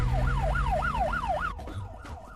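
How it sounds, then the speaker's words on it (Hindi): A police siren wails, rising and falling in a steady, rapid cycle, loud and close, then cuts off abruptly and leaves a low rumble. "ये तो पुलिस का सायरन है।"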